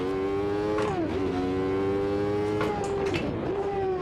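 A 1991 Formula 1 car engine in the Automobilista 2 racing sim screams at high revs, its pitch climbing and then dropping sharply at each gear change, loud and sustained throughout.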